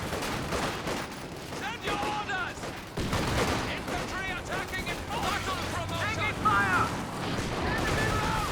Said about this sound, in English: Ooh, big grenade.